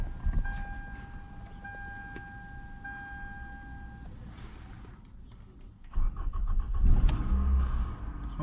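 A 2010 Toyota Camry in for an all-lost fault, with a beeping chime and quiet idle early on, then the engine cranks and catches near the end, running with a rougher rising rumble.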